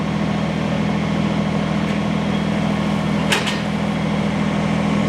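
Kubota BX compact tractor idling steadily with a low engine hum while its front loader bucket tilts out and dumps, a brief hydraulic whine rising near the middle.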